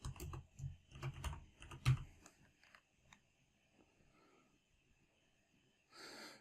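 Keys on a computer keyboard clatter in quick, faint clusters of taps, then trail off into near silence, recorded close and quiet with no speech.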